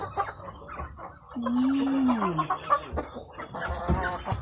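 Chickens cluck on a rural farm, with one drawn-out rising and falling call standing out amid scattered shorter clucks nearby.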